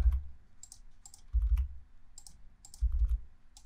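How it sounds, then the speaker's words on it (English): Computer keyboard keys are tapped while working in Blender, a few sharp separate clicks spaced across the moment, with low thumps in between and no talk. "I'm going to use R on the keyboard twice, so tap R twice"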